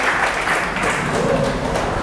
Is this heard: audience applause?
yes